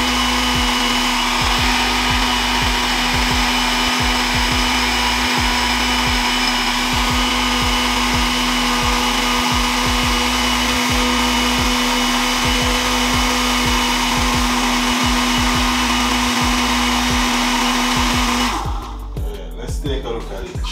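Blender mixing a Jamaican pumpkin smoothie: a loud, steady motor whine with a chopping rumble runs continuously close by, then cuts off near the end.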